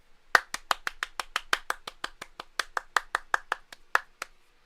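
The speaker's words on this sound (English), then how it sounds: "But here's my applause." One person claps hands alone in a quiet room, about twenty close, sharp claps in a fairly steady rhythm that slows slightly toward the end.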